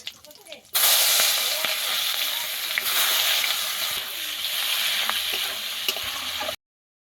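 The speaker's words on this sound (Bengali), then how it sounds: "পেঁয়াজটা আমি ভালো করে ভেজে নেব।" Onions with a bay leaf frying in oil in a wok, a loud steady sizzle that starts abruptly after a quiet moment and continues evenly with light crackles until it cuts off.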